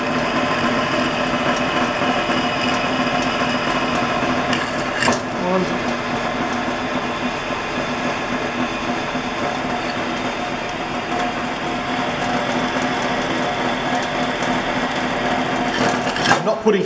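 A drill press, fed slowly by its hand wheel, runs with a steady close motor whir and a continuous grinding cutting noise, with one brief knock partway through.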